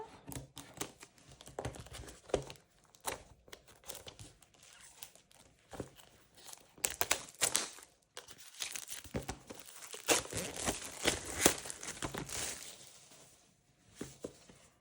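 A package of sticker sheets is opened with crinkling plastic, rustling and tearing, close up. The noise is irregular and grows busier and louder toward the end, with no talking.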